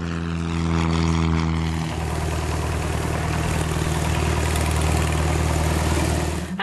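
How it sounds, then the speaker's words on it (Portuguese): Propeller aircraft on the ground at Sorocaba airport during a police tactical training exercise, its engine droning loud and steady with a tonal hum that drops in pitch early on, then holds a constant rumble throughout. "Assim que a aeronave pousou,"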